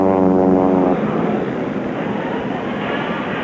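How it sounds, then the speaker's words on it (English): Vintage racing planes at the Reno air races, paced by a black P-51 Mustang, roar past in a loud, steady propeller-engine drone, with a strong harmonic tone at the start that fades into a broad, rushing roar. "They're in the air, roaring by, getting ready for the first lap."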